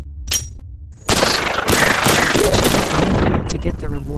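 Gunshots in the Guardians VR game on Oculus Quest 2 during the tutorial: a faint blip, then from about one second a loud, dense run of rapid firing with sharp repeated cracks.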